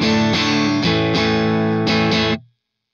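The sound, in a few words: electric guitar through Waves GTR edgy amp, clean near breakup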